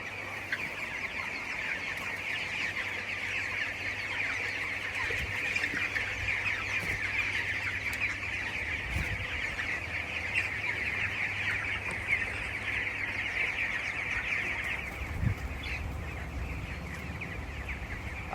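A dense chorus of 20-day-old chickens on a poultry farm in hot weather clucking steadily throughout, many birds close and far, with a constant murmur and no talking.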